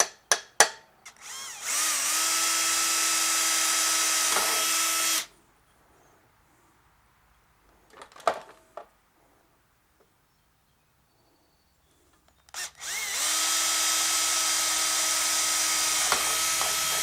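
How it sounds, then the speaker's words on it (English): A power drill bores holes into the rounded surface of a replacement vertical pump on a Ryobi 190cc pressure washer, in two long steady whining runs separated by a pause with a few clicks and handling knocks, close and loud. "help me drill into a round surface"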